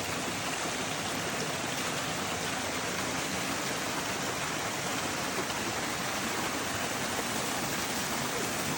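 Cold, clear water from a mountain stream in rural Austria rushes steadily and continuously, a dense, even broadband wash with no breaks.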